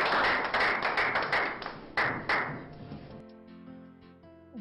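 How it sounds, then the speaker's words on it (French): Wedding guests clap in a hall, a dense burst of applause for about three seconds with a few sharper claps, then fading out as a lingering tonal hum remains. "Vos applaudissements, s'il vous plaît."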